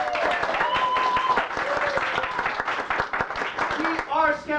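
A comedy club audience applauds at the opening of an improv show at the Midnight Sun, clapping steady and close while a voice talks over it.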